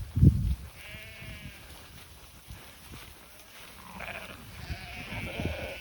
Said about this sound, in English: being chased around the English countryside by a pack of sheep